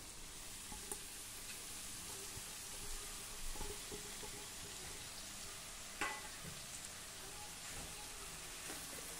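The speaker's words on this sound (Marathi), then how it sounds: "मध्यम आचेवर आता हे आपण छान परतून घेऊ।" Chopped spring onion greens sautéing with dal and peanuts in oil over medium heat, giving a steady close sizzle with a few soft stirring scrapes and no talking.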